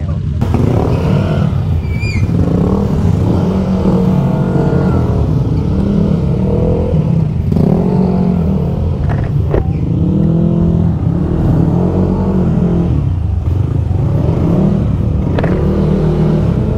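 Several motorcycles idle and rev together in a group gathering in Malolos, Bulacan, with engines running steadily throughout and repeated throttle blips rising and falling, loud and close, with some mechanical clatter.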